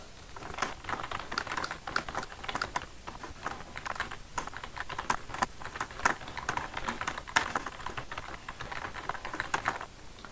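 Steady typing on a computer keyboard, a close run of quick key clicks with brief pauses while a letter of recommendation is written, with no voices.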